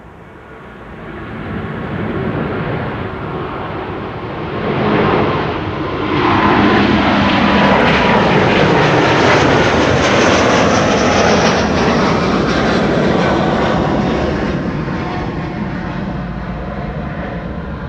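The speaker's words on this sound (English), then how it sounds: "Delta Airlines Flight 137 to Detroit, Michigan." A three-year-old Delta Airbus A330neo bound for Detroit takes off from Schiphol's Kaagbaan runway, its jet engines swelling from a distant rumble into a loud, sustained broadband roar that slowly fades as it climbs away.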